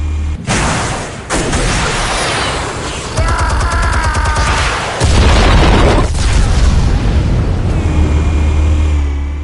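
Armed explosives detonate in the Batman Telltale game, a series of loud heavy booms and crashing blasts with deep rumbling and sharp bursts, layered over with tonal effects.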